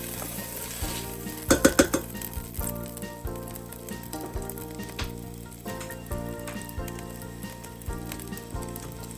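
Fat renders in a hot pan for refried beans, with a steady close sizzle and frying hiss throughout and a quick cluster of metallic pan clanks early on.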